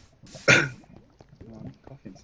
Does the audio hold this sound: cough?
yes